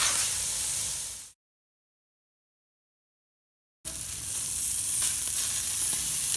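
Meat laid skin side down on a hot charcoal grill sizzles with a steady, dense hiss, broken by a brief cut to silence before the frying resumes just as strongly.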